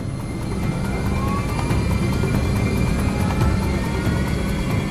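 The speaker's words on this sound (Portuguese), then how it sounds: "Delta 11:41, direção 185, pista 18 esquerda, liberado para decolar." Loud, steady aircraft engine roar, an airliner on its takeoff roll as Delta flight 1141, holding a dense broadband rumble with faint whining tones across the whole stretch and no talk.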